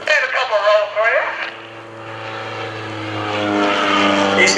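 An Extreme Decathlon aerobatic plane at an airshow, its propeller engine droning steadily and swelling louder toward the end, heard from a distance beneath a commentator's voice on the PA.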